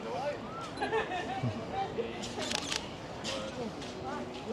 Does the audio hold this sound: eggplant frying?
no